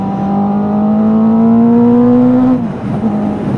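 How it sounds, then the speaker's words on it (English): A 2023 Honda CB650R motorcycle engine revs loud and steady with a rising tone, then drops sharply as the rider lets off the throttle and kicks up a gear without a quick shifter, settling into lower engine drone afterward. "you just go up in a higher RPM and then you let off throttle, and then you kick up and it should shift up as well"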